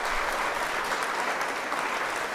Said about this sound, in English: round of applause, Ray